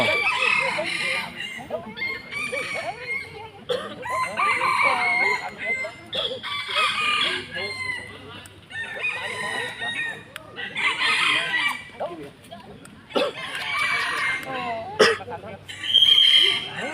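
Chickens cluck and roosters crow repeatedly throughout, fairly close and loud, with a voice talking over the birds.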